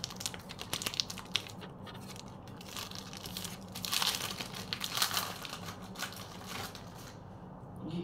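A Pokémon card pack wrapper is torn open by hand, with close, crinkly foil crackling and tearing in uneven bursts, loudest partway through.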